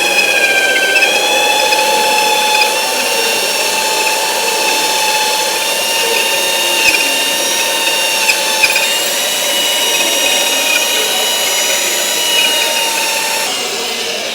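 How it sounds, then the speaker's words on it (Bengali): A handheld core cutter machine bores into a concrete wall with a loud, steady high-pitched whine that holds unbroken for the whole stretch, the motor tone almost constant and no talk over it. "এটা হচ্ছে হ্যান্ড এটাও একটা কোর কাটার মেশিন"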